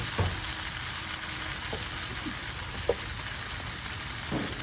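Rice noodles sizzle on a hot Blackstone griddle with a steady, close hiss, broken by a few faint clicks and taps of a utensil.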